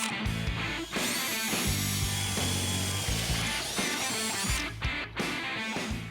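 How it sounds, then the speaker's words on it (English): Holes being drilled with light pressure into the sheet-metal deck lid of an autocross Camaro, a whining power drill running in several bursts with brief pauses, close and loud, with no talking. "Then we'll just drill them out."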